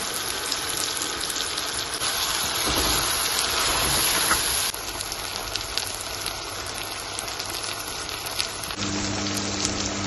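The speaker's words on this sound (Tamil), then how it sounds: "இப்போ நாங்கள் ஏற்கனவே கட் பண்ணி வச்சுருந்த மஷ்ரூம் அதுக்கு சேர்ப்போம் தாளிச்சத்தை கூட சேர்த்து பிரட்டி விடுவோம்" Sliced mushrooms are stirred into a hot tempering for a mushroom pepper fry, giving a steady, dense sizzle like heavy rain that stays loud and close throughout, easing slightly toward the end.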